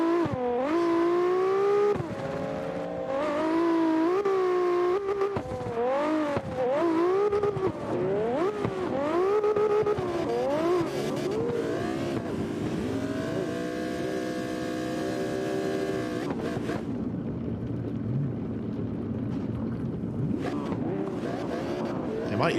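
A car engine revs hard while being driven during spec testing, its pitch sweeping up and down through repeated shifts before settling into a loud steady drone, then easing off.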